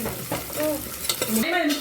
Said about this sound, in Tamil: இப்போ நம்ம வந்து வெங்காயமும் பச்சை மிளகாயும் போட்டுக்கலாம் கருவேப்பிலை போடணும்